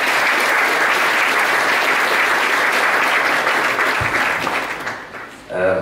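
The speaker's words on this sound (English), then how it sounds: "if I can have a round of applause for our ex-Olympic" An audience at a FISU World Forum opening panel applauds a former Olympic athlete: dense, loud sustained clapping that holds steady, then thins and fades near the end as a voice begins.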